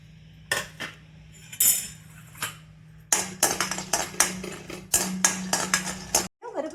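Peanuts being dry-roasted in a pan for homemade protein powder, a spoon or spatula repeatedly scraping and clinking against the metal in bursts of stirring, close and fairly loud over a low steady hum.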